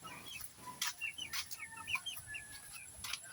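Pet chickens on a Filipino farm cluck and chirp just after feeding, short scattered calls overlapping at close range against a quiet background, with a few sharper peeps standing out.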